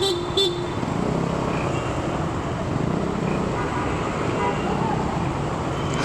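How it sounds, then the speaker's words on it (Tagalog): Busy city road traffic at night, with a steady roar of passing cars and motorcycles and a couple of short horn toots early on, heard from a moving scooter in a continuous, fairly loud wash. "Basta sa traffic tapos magulo."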